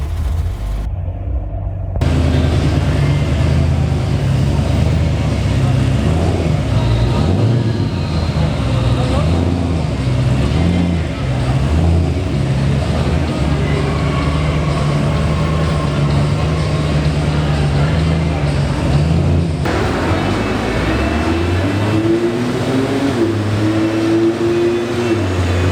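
A car engine revs hard on a dyno, a loud, continuous, close roar that rises and swells in pitch over sustained pulls, with people talking over the noise.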